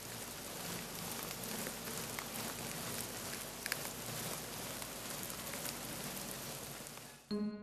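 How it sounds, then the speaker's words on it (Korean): Dense, soft crackling patter like light rain, made by silkworms chewing mulberry leaves, continuous and close, ending with a brief different noise. "누에가 뽕잎을 갉아먹는 소리는 마치 봄비가 내리듯 서정적인 소리로"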